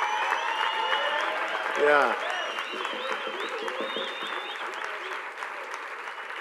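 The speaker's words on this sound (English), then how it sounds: "Can I hear the round of applause?" A round of applause from an arts and culture event audience, sustained clapping with cheers and whistles mixed in and a brief shout from someone near the middle.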